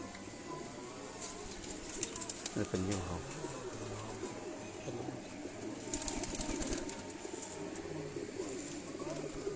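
Lakha breed pigeons at a master breeder's loft in Sialkot coo in low repeated phrases, close by, with wing flutters, while someone talks over them.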